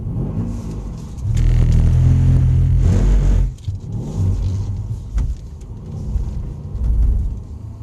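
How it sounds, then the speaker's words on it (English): A car passing on a road: a loud low rumble swells quickly, holds for a couple of seconds, then fades, followed by lighter engine and road noise nearby. "Car's coming."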